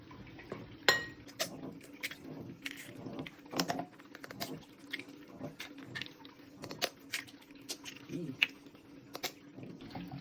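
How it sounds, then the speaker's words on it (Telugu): A spoon repeatedly clinks and scrapes against a bowl while mixing homemade cake batter with sugar, irregular close taps and stirring strokes at low level. "ఒకసారి బాగా కలుపుతాం"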